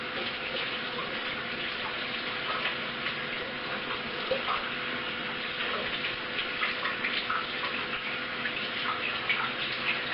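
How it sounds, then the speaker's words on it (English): Hands being washed under a running tap, a steady stream of water splashing with small irregular splashes and clinks, close and continuous. "Wash my hands off really quick."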